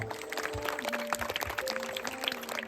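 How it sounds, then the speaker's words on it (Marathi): Audience applause at a Zilla Parishad school performance in Kashivali, a steady stream of claps over sustained music tones. "जोरदार टाळ्या वाजवा"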